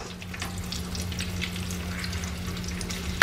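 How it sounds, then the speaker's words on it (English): Fried peanut butter and jelly sandwiches sizzle in hot oil, a steady close crackle with a faint hum underneath and no talking. "They cook real fast once your oil gets really hot."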